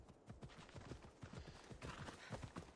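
Horse hooves clip-clopping in Assassin's Creed Odyssey, a steady rapid galloping rhythm of repeated thuds, fairly loud and continuous with busy game ambience behind, no talk.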